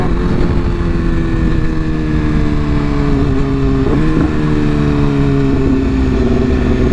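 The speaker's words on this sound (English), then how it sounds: "My first time rev bombing a tunnel." A motorcycle engine roars loudly and close inside a tunnel, a sustained revving drone with slight pitch changes and a couple of brief blips, echoing throughout.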